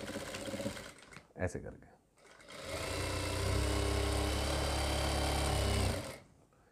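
An electric sewing machine runs a steady, loud, continuous stitching drone for about three seconds while a churidar pajami is sewn in a tailoring class, with a voice briefly before it starts.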